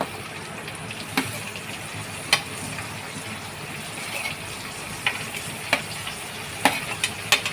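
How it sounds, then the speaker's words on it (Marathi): Chopped onion frying in hot oil with crushed ginger and garlic for egg tikka masala, a steady close sizzle with occasional sharp clicks of a spoon stirring against the pan. "आता याला चांगलं तेलामध्ये कांद्याला फ्राय करून घ्यायचं."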